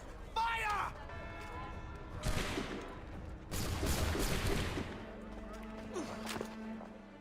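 Musket volley in the game Assassin's Creed 3, a loud ragged burst of massed gunfire followed by a second crackling fusillade, with game voices and commotion around it.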